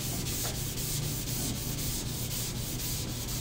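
Steady, continuous scratchy rubbing of sandpaper on a Chevrolet C10 truck cab panel, close and fairly loud, with a rhythmic back-and-forth pulse and no talking.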